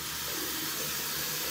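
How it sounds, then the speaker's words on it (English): Water running from a sink tap in a bathroom while shaving gear is rinsed, a steady close hiss and splash, fairly soft and continuous with no talking. "you're gonna turn on the water."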